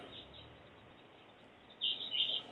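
Birds chirp near a coastal lagoon in Encinitas, a brief bright burst of tweets rising late over a faint, steady outdoor hush.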